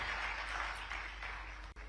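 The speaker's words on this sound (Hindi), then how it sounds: "तालियां हम सभी की लगातार बजती रहे." Faint applause from an audience at an official forestry ceremony, a soft continuous patter of clapping heard from a distance for a couple of seconds.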